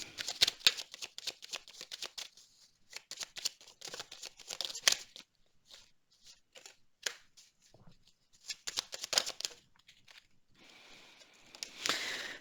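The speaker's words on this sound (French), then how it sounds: "je vais tirer encore une carte sur la jalousie et sur l'échec" Tarot-style cards are drawn and shuffled by hand during a horoscope reading, giving a long run of close, papery riffles, slaps and flutters with brief pauses between bursts.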